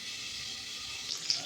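Green chillies are rinsed under a running kitchen tap, giving a steady, close hiss of flowing water with a few faint splashes near the end.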